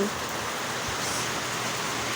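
Heavy rain pours down as a dense, continuous hiss, loud and steady throughout with no voices.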